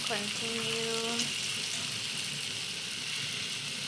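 Spinach is stirred into cooked tomatoes in a soup pot of sweet potato and spinach soup, giving a steady bubbling sizzle with soft stirring scrapes, while a faint tonal sound fades early.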